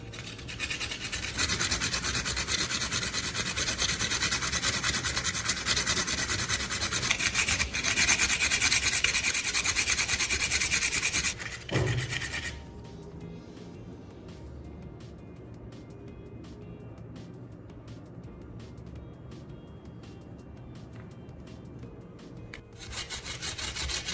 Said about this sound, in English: I start with a sheet of medium grit sandpaper and carefully rub down all four sides of the core.